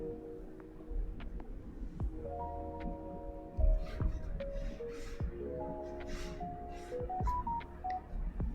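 Telephone keypad tones beep in a string of short, fairly faint steady pitches over a low background rumble, with a few soft handling knocks in between.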